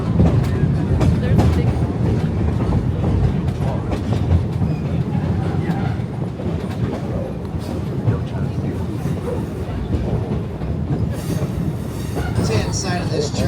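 Roaring Camp Railroads steam train in Santa Cruz rolls steadily along, a continuous loud rumble with clickety-clack of wheels on track and some squealing, heard from aboard with voices talking faintly underneath.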